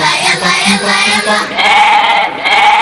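Sheep bleating loudly and continuously in a festive holiday song setting, a wavering bleat layered over music for a few seconds.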